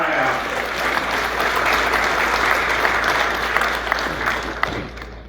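Sustained audience applause at a university convocation ceremony in Uttarakhand, dense clapping from a large crowd filling the hall steadily for several seconds, with a few sharper claps standing out near the end.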